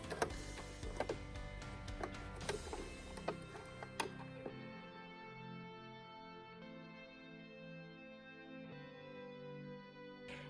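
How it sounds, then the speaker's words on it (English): A sewing machine basting with a long stitch length on a raglan hoodie, its needle ticking steadily and evenly close by, with busier handling clatter at the start before settling into a smooth, continuous run. "I'm at my sewing machine. I'm going to make my stitch length really long. And then I'm just going to base this in place."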